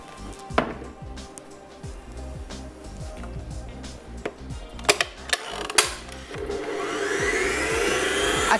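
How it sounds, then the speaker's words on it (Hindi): Four eggs beaten for a hot milk cake, likely with an electric mixer, giving a steady whirring drone with clinks and taps against the bowl that grows louder and brighter toward the end. "जब तक ये अंडा बीट हो रहा है"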